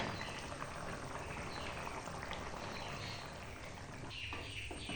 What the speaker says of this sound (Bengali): এবার হালকা একটু ফুটবে